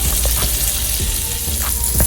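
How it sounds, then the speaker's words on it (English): Salmon fries in butter in a pan with a steady, dense sizzle and a few soft pops and spatters throughout, close and moderately loud, with no talking. "I like to add my butter in after my salmon has cooked for at least a minute or 2 on each side."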